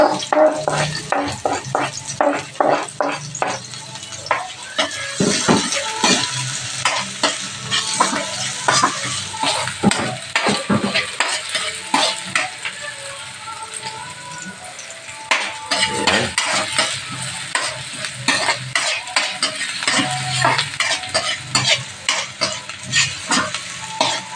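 Garlic and onion sauté in a pan with a constant sizzle, while a utensil stirs and clatters against the metal in brisk, repeated strokes close by.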